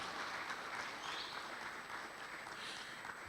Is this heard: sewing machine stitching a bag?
no